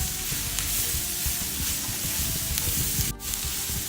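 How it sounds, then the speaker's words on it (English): Fajita meat sizzles steadily in a hot pan while being stirred, a close, continuous crackling hiss with soft scraping, and a brief sharp clatter near the end. "we're going to stir this up, make sure everything's nice and incorporated"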